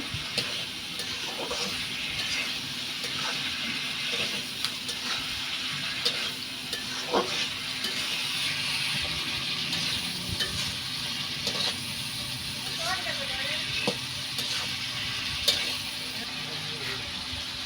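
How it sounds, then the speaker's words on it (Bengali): Spice paste with turmeric and chili powder frying in oil over a clay stove for fish with drumsticks, giving a steady close sizzle with occasional stirring and scraping clicks throughout. "মশলা থেকে দেখেন তেল কত সুন্দর বের হয়ে আসছে।"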